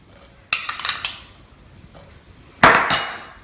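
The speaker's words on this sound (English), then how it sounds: "Stir that up" A spoon clinks and scrapes against a pot of egg drop soup with scallions and ginger, two short bursts of metallic knocking and stirring, close and fairly loud, with quiet gaps between.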